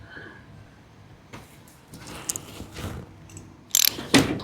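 A torque wrench tightens flanged nuts on a Weber carburetor on a Jeep 4.2 engine, giving scattered mechanical clicks and ratcheting bursts that grow louder toward the end, with no talk.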